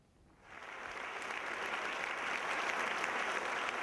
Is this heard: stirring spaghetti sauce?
no